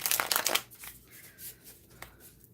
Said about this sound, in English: they shuffle like a dream. Did you hear that riffle?